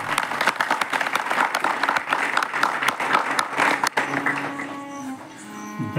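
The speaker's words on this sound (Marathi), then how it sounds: "तुम्ही टाळ्या वाजवा" A crowd of devotees at a Shri Krishna Janmashtami gathering claps steadily and densely for about four seconds, then the applause breaks off and a sustained tone and faint voices take over.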